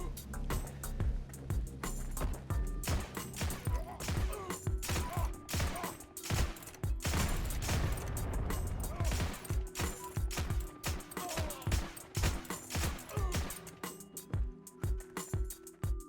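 M1/M2 rifle fire in the World War II shooter Heroes & Generals, rapid repeated shots crackling in dense bursts across the whole stretch with a few brief pauses, loud and close amid battle noise.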